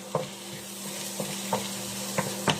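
Garlic sautéing in a pan while Pork Binagoongan with eggplant is cooked, a steady soft sizzle broken by a few brief stirring clatters.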